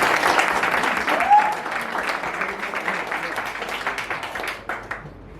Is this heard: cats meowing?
no